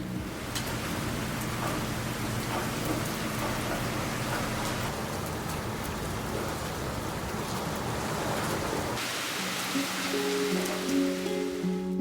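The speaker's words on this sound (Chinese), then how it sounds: "既然不能出门，那就在家听听雨吧。" Steady rain falling outside during autumn-winter in Tofino, a dense even hiss that stays constant throughout, with a low tonal hum joining in the final few seconds.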